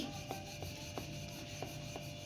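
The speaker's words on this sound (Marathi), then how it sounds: "कचोरी लाटून घ्यायची आहे जास्त लाटायची नाही आहे" Kachori dough being rolled out gently with a rolling pin on a dusted wooden rolling board, a soft steady rubbing with faint rhythmic thumps about every half second, quiet and close.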